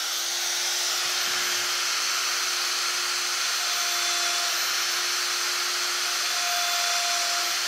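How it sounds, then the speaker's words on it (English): A wood router cuts flutes in a turned wooden piece held on a fluting jig, giving a steady, loud high whine with a thin tone that rises midway, with no talk. "I'm going to try and keep the router on the move all the time"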